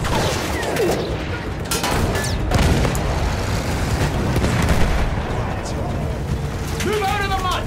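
Booming field gun fire in the Battlefield 1 campaign mission 'Through Mud and Blood', heavy blasts and mechanical clatter filling a dense war soundscape while voices shout throughout.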